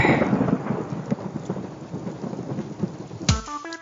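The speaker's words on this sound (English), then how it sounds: "after you get struck by lightning, there's thunder" A thunderclap in a Grand Theft Auto Vice City radio ad, a loud rumbling crack with rain-like hiss that rolls on for about three seconds, then cuts to a brief tonal jingle.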